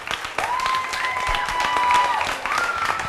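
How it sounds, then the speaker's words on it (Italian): Audience applause at an Italian singing contest, a steady crowd clapping that swells and holds throughout with a bright tone riding over it. "ancora un grande applauso."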